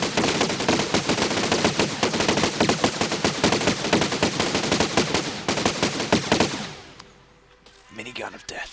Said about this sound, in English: Minigun of death.